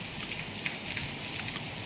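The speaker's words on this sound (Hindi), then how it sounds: "बारिश और तेज़ हो गई," Heavy rain falls steadily as a dense, continuous hiss of drops, unbroken and fairly loud, with no voices over it.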